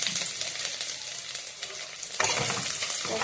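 Garlic sizzles in hot oil in a pan, a dense crackling fry with occasional stirring scrapes, loud and close throughout.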